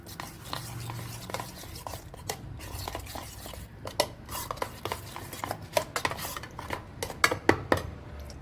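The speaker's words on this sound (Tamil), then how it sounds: "மீதி இருக்க மசாலாவை நம்ம எடுத்து வச்சுருக்க தயிரில் மிக்ஸ் பண்ணி வச்சுக்கிடுவோம்" Spoon scraping and clinking in a bowl as leftover masala is mixed into yogurt, a run of soft rubbing strokes with sharper taps growing more frequent, close and moderately loud with no talking.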